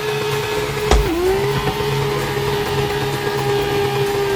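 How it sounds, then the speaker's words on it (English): Car engine held at the rev limiter during a standing burnout, a sustained high droning whine with a sharp bump and dip early on, then steady and loud throughout. "I'm bouncing off rev limiter"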